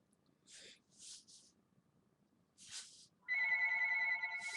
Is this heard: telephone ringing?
yes